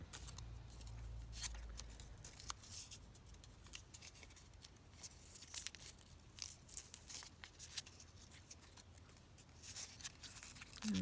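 Scissors trimming scrap paper for paper flowers, a close series of quick crisp snips and rustles running throughout, quiet and alone.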